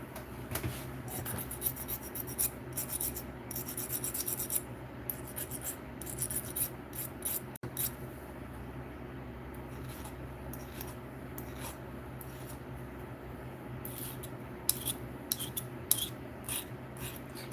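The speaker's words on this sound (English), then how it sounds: "I'm going to use a file to polish out that little bit of scuffing" Soft rasping strokes of a metal file polishing a scuff out of soft aluminum wire, steady repeated rubbing close up with a low background hum, no talking.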